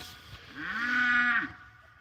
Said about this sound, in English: All of these cows are super gentle, except for him.